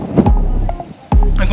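A large boat rumbles close by, a low engine drone with splashing water and wind buffeting the microphone, broken by a brief quiet gap.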